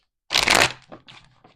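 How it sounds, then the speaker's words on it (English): A tarot deck is shuffled in one quick riffle up close, opening with a loud burst of flicking cards. It trails off into a few softer taps as the cards settle, with no voices. "just shuffle this deck."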